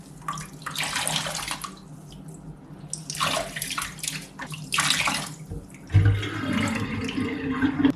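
Wool yarn dyed with black beans and an iron mordant is rinsed in a tub of lukewarm water: loud bursts of splashing and sloshing come in waves, then running tap water pours steadily near the end.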